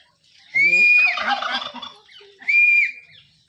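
A turkey lets out a loud, close gobble, followed a moment later by a second, shorter one.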